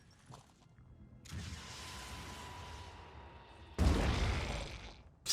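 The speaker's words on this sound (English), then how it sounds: "Let's get a grenade in, actually." A grenade detonating in the tactical game Phoenix Point, a rushing burst followed by a second, louder blast with crackling debris that quickly fades.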